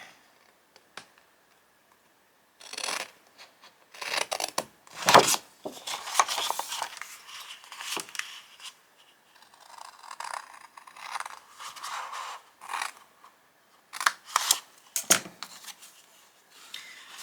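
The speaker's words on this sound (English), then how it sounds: "We're going to cut down to the 2nd score line and take out that corner there." Scissors snipping through card along a score line, a run of short crisp cuts and papery scrapes in irregular bursts, close up with no speech.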